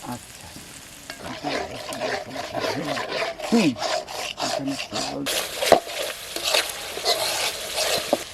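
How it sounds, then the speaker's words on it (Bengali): Ground ginger, coriander paste and turmeric are stirred and sautéed in a pan, with rhythmic scraping strokes of a spatula over a continuous loud sizzle. "এবার মশলাটা ভালো করে কষিয়ে নেব।"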